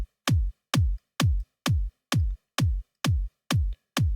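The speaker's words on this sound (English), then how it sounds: "I'm going to look for a kind of punchier kick that doesn't have a lot of sub-frequencies" Punchy EDM kick drum sample with little sub-bass, struck ten times at a steady, even pulse, each hit short and loud with a sharp click and a quick decay, alone with no talk.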